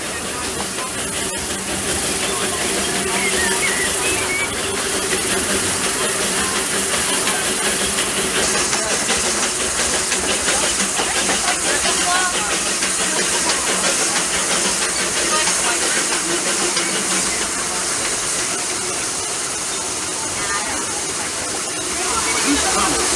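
Steam locomotive Fred Gurley #3 hissing loudly during a train ride, a constant broad steam roar with rattling railcar noise underneath and a voice talking over it.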